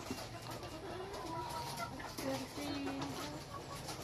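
Caged egg-laying hens cluck on a small farm. Scattered clucks and calls sound faintly against a busy background while people talk nearby.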